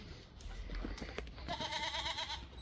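Goats bleating on a farm, a cluster of quavering, wavering bleats rising in the second half over low outdoor background noise, fairly close and loud.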